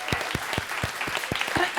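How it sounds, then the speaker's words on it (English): Scattered audience applause at a podcasting talk, a handful of distinct nearby claps standing out over a wash of softer clapping. "Let's give them a round of applause."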